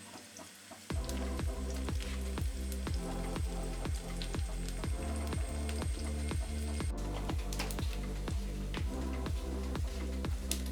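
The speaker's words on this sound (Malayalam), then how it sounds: "അപ്പോൾ നമ്മുടെ ഇവിടെ കടുക് വറക്കാനിട്ടത് പൊട്ടി തുടങ്ങി" Mustard seeds and split dried red chillies crackle and sizzle in hot oil on a stove, a steady close frying hiss with regular popping bursts throughout.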